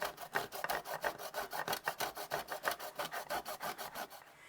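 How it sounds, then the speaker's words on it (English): A lemon is rubbed briskly against a grater to take off zest for a lemon Jell-O cake, making a rapid, even run of rasping scrapes, close and alone. "So what I'm going to do is just grate me some lemons."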